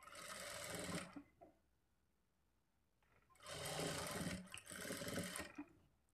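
An electric sewing machine stitches a lining blouse in two loud close bursts, a short pause of near silence between them, with no talking.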